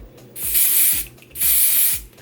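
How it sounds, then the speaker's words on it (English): A spray bottle mists twice up close, each long hissing burst loud and bright, with a brief gap between them. "We got our spray and it comes out with water"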